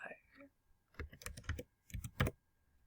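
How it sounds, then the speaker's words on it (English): Keys clatter on a computer keyboard in a few short, quick bursts with brief pauses between them. The typing is soft and close. "let me type that in"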